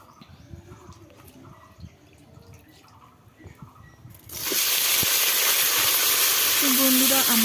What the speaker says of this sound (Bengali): এখন আমি কড়াইয়ে তেল দিলাম, দিয়ে শুটকি মাছগুলো আগে আমি ভেজে নেব।